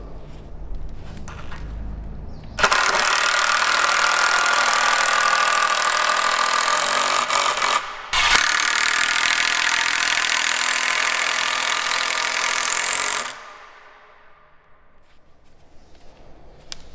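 A power screwdriver drives screws into a thick wooden joist of a chalet, with no pre-drilling, running loud and steady for several seconds, pausing briefly, then whirring again before stopping.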